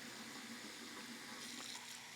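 Hot water runs steadily from an RV faucet, a faint, even rushing stream heard alone throughout.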